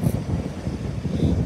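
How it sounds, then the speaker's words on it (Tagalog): Strong gusting wind buffets the microphone with a low, rough rumble that rises and falls, with no voices. "Lakas ng hangin. Sobrang lakas."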